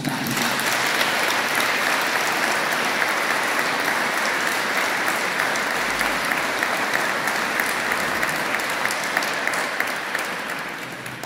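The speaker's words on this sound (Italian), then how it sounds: "facciamo un applauso a Sant'Anna." A crowd gathered in Caserta for the presentation of the renovated seat of Saint Anne's statue claps in long, even applause, close and full, easing off slightly at the end.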